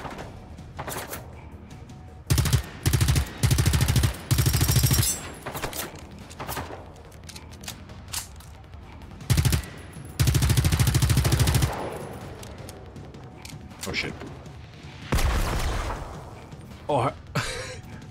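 Bursts of automatic gunfire from the video game Generation Zero, several loud rapid volleys of varying length separated by short pauses, with occasional single shots and talking in between.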